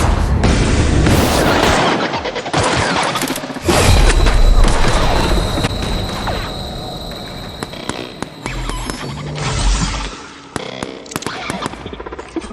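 Grenade launcher blasts and gunfire in The Outer Worlds fight against mechanicals, loud booming explosions and rattling shots that pile up continuously, heaviest near the start and middle, with a brief lull toward the end.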